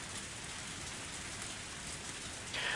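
Steady, dense rainfall from the video game Higurashi: Matsuribayashi, a constant close hiss of cold rain on surfaces that swells slightly louder at the very end, with no voices.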